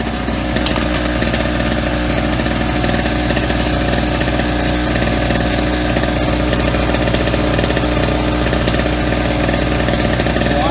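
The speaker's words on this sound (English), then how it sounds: "Let the engine warm up for about 5 minutes" A Pulsar PG1202S portable generator engine drones steadily and loudly nearby while warming up, a constant rough mechanical hum with no pauses, running on its own without voices.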